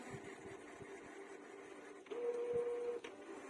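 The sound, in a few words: Canon printer cleaning cycle, mechanism cycling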